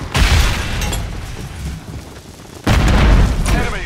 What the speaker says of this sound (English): Thermite out.